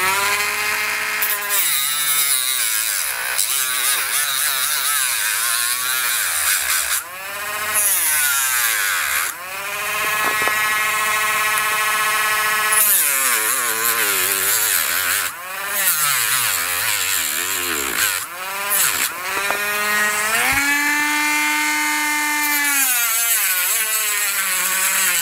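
A Dremel rotary tool grinding during an aileron servo install on an Eternity F5J glider: a high, whining motor that repeatedly drops and climbs in pitch as it loads and frees, with brief pauses between passes.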